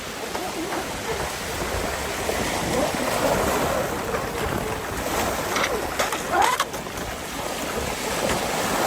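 A battery-powered, top-heavy RC jet ski runs across open water with a thin, steady electric whine over continuous splashing and wash, heard from a moderate distance and without talk.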